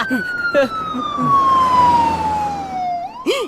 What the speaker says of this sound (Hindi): एम्बुलेंस के आने से तो लोग ठीक होते हैं